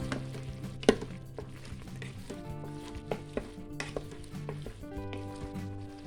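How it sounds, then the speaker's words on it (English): Mixed herbs being stirred into a beef stew in a multi-cooker, with a steady sizzle and soft scraping of the spoon through the pot, one sharp clink near the start. "Just about a teaspoon of mixed herbs. And just stir that through."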